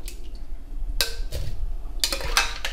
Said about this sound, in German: ich werde jetzt noch die restlichen Äpfel da rein tun.